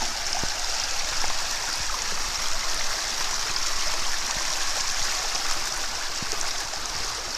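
River stream flowing near a bridge in Caratunk, a continuous bright rushing and gurgling of water, steady and close, with no voices.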